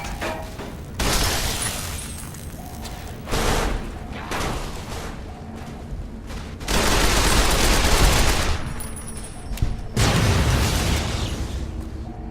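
Explosive blasts and bursts of fire from a fight in the video game Fallout New Vegas, loud booming bursts separated by short gaps, with a longer rumbling blast near the middle.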